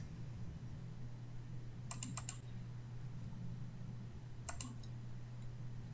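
A computer mouse clicks in two short bursts of quick, crisp taps, a few seconds apart, over a low steady room hum.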